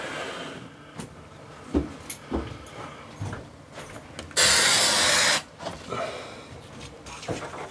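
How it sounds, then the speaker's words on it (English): Spray paint hisses onto a paper-faced gypsum cornice in one loud, close burst of about one second, surrounded by light handling knocks and taps. "obviously I sprayed a bit heavy there"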